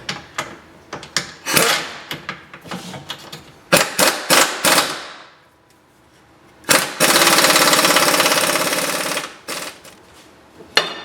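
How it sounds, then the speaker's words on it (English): Impact gun tightening the front control arm bolts on a Chevy HHR during a strut and lower control arm install, in loud rattling bursts of hammering with a sustained run near the end and short pops between. "just tightening up the front control arm bolts that hold couple pops with the gun and she's tight"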